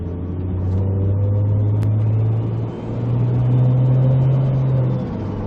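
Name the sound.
MK4 Toyota Supra engine with ISF 8-speed transmission shifting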